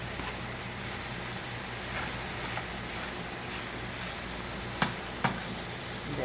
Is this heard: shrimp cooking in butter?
yes